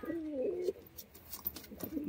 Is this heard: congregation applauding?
no